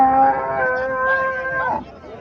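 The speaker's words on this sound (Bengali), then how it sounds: "এখানে একটা দেশি গাভী দেখা যাচ্ছে" A local dairy cow moos once in a long, drawn-out, tonal call that rises and then falls away, close and fairly loud at a livestock market in Cumilla.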